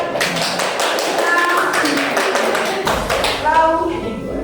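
Students in an Indonesian history classroom clap together, a steady patter of hands lasting throughout, with children's voices chattering over it.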